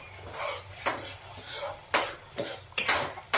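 Masala for a spicy Vidarbha-style patvadi rassa is sautéed in oil in a pan, heard as a low sizzle broken by sharp metallic clinks and scrapes of a spoon against the pan, coming in irregular bursts close up.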